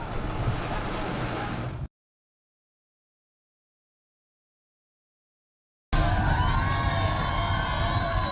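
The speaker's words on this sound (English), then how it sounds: "The cheering and the taunting belies their desperation" Venezuelan families cheer and shout in a loud outdoor crowd, with children's voices among them. The noise runs briefly, drops to total silence for about four seconds, then resumes at full strength.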